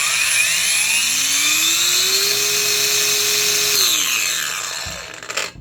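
A Kimo 20v brushless 4-1/2 inch angle grinder runs up through its soft start with a loud, close, steady high-pitched whine as its motor tone climbs, then holds and spins back down near the end.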